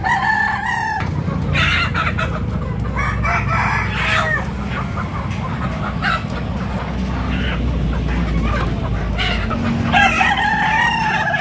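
Broiler and free-range village chickens at Pasar Daya poultry market in Makassar cluck busily while a rooster crows loudly at the start and again near the end, over a constant crowded market din.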